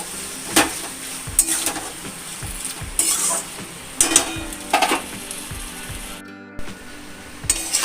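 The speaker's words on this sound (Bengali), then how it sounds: "দেখুন এটা আমি হালকা ফ্লেমে এটাকে রান্না করছি" Fish head and kochu shak cooking in a pan over a low flame, a gentle sizzle broken by repeated spatula scrapes and clicks against the pan, close by, with one brief drop-out.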